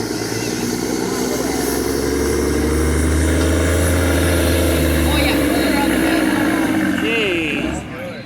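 A 1987 Max Superliner pulling tractor roars at a tractor pull event, a loud, steady, heavy engine drone held for several seconds before easing off at the end, with crowd noise and a voice faintly underneath.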